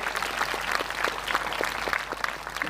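A crowd claps steadily for the village sarpanch and panchayat team at a gathering in Areth, a dense, continuous round of applause throughout with no one speaking over it.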